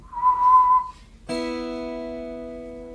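Guitar strings struck together as a fourth interval while tuning by ear to equal temperament: a single plucked chord that rings on and slowly decays, preceded by a brief whistle-like tone.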